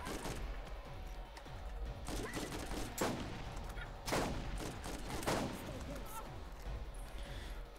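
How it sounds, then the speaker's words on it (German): Gunfire in the shooter game Borderlands, a steady barrage of repeated shots with several louder bursts standing out, mixed into game sound throughout. "Ich stehe unter Beschuss."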